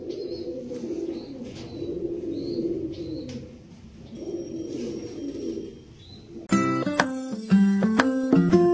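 A pair of blue shatting pigeons coo softly and repeatedly up close, with low, rolling calls; music abruptly takes over for the final couple of seconds.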